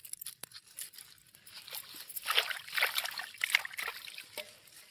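Radish being washed by hand in water to clean off soil, with intermittent sloshing, trickling and splashing close by, building to busier bursts midway, with no speech.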